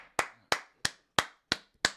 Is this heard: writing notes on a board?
no